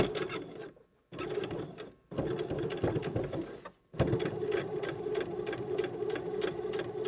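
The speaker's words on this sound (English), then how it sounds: "I'm going to back stitch because this is staying permanently." A sewing machine back-stitches a zipper seam, its needle whirring in steady close bursts that stop briefly twice before running on.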